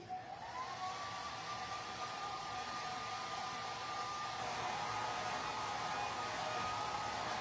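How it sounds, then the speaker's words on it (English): A hair dryer whirs steadily in a continuous airy hum, its motor tone rising briefly at start-up before holding level. "I'm gonna dry this with the hair dryer"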